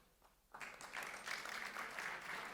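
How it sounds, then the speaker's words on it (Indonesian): Congregation applause in a Sunday worship service at a Pentecostal church in Gorontalo, starting abruptly after a near-silent moment and continuing as steady, dense clapping from many hands with no talk over it. "Tepuk tangan."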